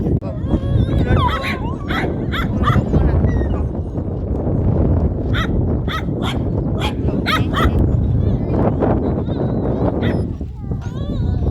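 Several dogs bark at a car, repeated sharp barks and yips in bursts over a low rumbling background, with whimpers between and a person talking.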